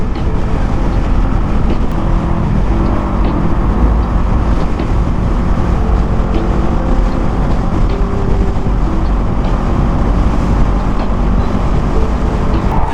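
A motorcycle engine drones steadily while riding on a road, buried in constant loud wind rush throughout.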